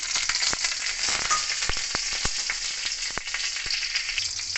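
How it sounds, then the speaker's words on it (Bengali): Nigella seeds and green chilies hit hot mustard oil in a wok, giving a loud, continuous bright sizzle with scattered sharp pops and crackles throughout, close up and without talk. "তেল ভালো করে গরম হয়ে গেলে এতে আমি কালো জিরে আর কাঁচা লঙ্কা"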